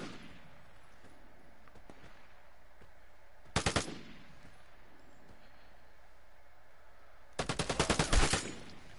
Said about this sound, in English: I got a stormtrooper shooting at me